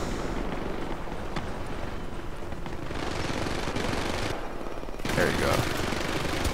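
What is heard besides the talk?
gunfire in the video game Syndicate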